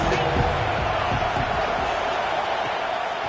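A football stadium crowd at a Texas game roars behind the defense, a dense, steady wash of cheering that stays loud without a break for the whole stretch.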